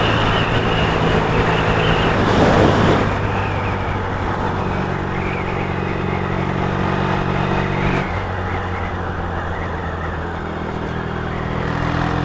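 Yamaha XS650 motorcycle being ridden, a loud continuous engine drone with strong low harmonics and wind rush, swelling briefly near the start and then holding steady at cruising speed.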